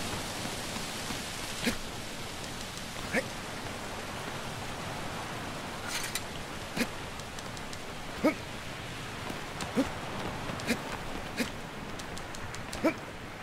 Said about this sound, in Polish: I zaczęło padać jeszcze w dodatku.